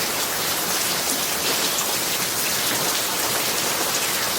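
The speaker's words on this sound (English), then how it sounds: "this just keeps raining and raining and raining" Heavy rain pours steadily over a garden, a dense, even hiss of drops on surfaces that holds at the same loudness throughout, with no other sounds breaking through.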